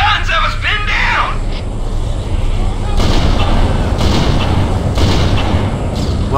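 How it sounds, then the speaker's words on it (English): Heavy gunfire and booming artillery-like blasts from the video game Halo: Combat Evolved, with repeated thumping shots over a dense battle rumble; voices shout in the mix. "Those freaking guns have us pinned down!"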